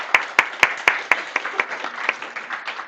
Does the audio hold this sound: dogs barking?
no